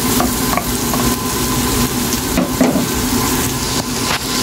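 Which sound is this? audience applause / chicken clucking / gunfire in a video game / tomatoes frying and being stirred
tomatoes frying and being stirred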